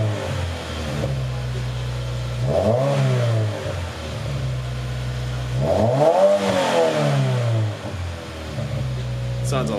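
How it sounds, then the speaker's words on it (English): A 2020 Subaru WRX with an Invidia Gemini R400 exhaust idles, then revs twice in loud close surges that rise and fall back to a rumbling idle. "Give it a rev."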